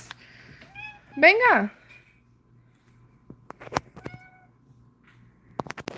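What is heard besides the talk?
cat meowing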